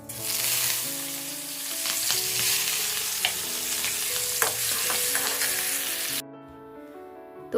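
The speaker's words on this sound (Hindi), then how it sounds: "तो यहाँ बस मैंने लगा दिया है तड़का और बना रही हूँ अभी लौकी की सब्ज़ी बनाऊँगी" Oil tempering sizzles steadily in a pan for bottle gourd curry in a village home kitchen, loud and continuous with stirring clinks, then the frying drops to a softer, quieter sizzle near the end.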